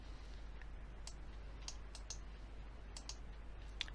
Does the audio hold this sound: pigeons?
no